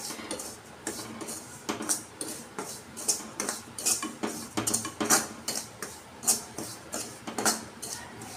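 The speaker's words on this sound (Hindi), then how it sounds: "यहाँ पे हमें सूजी डालकर और दो मिनट तक भून लेना है" Semolina roasting in hot ghee in a pan for suji barfi, heard as a rhythmic series of close metallic scrapes and clinks of a spoon against the pan, roughly two strokes per second, with no talk.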